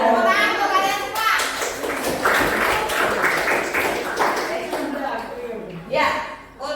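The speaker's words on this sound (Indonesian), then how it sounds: "Tepuk tangan untuk kalian semua." Schoolchildren in an Indonesian classroom clap their hands together in a loud, dense burst of applause mixed with excited children's voices and a teacher speaking.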